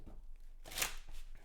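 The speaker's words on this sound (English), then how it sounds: "let's do one more shuffle" A short riffle of a tarot deck being shuffled, one brief crisp burst of card flutter in a quiet room.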